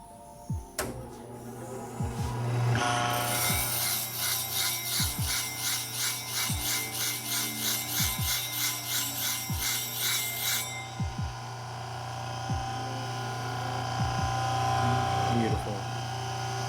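Clipper blades being professionally sharpened, a loud, close, steady grinding rasp with a fast pulsing texture that runs for about seven seconds and then cuts off, with sharp clicks scattered throughout.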